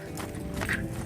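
A horse's hooves clip-clop at a trot in a riding arena, with quick, regular beats under light background noise.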